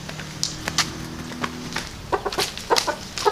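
Pet chickens clucking nearby in a Minangkabau home setting, a series of short irregular clucks and calls rising in frequency toward the end, over low background hum.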